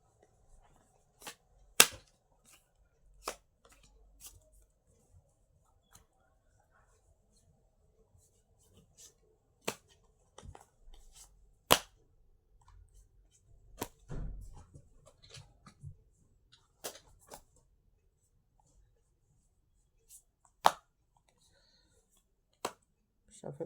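Playing cards being shuffled and handled, a series of sharp irregular snaps and riffling clicks spread across a quiet room, close and fairly crisp, with soft talk between them.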